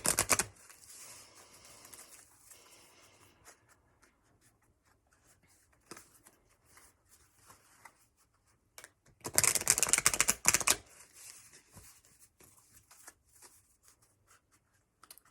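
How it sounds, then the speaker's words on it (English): Tarot cards being shuffled by hand, a few crisp riffling bursts with one loud close flurry near the end, separated by quiet pauses; no talking. "So I'm going to shuffle these just a little bit"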